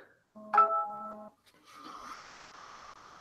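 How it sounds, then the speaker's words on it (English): A phone tone sounds over a radio stream, a short burst of steady layered tones, then a hissy, noisy patch, fairly faint and thin. "Can hear Monkey's stupid phone"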